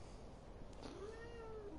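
A house cat gives a single drawn-out meow with a gliding pitch, quiet and close, over a low steady background hum; no one speaks over it.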